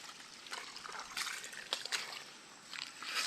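Spring water trickling and dribbling out of the ground after a typhoon's rain, a soft, continuous outdoor flow with gentle irregular splashy surges, fairly faint and heard alone.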